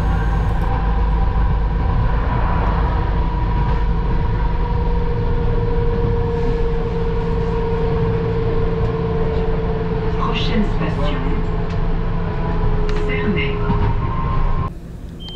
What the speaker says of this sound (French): Tram-train allant vers Thann.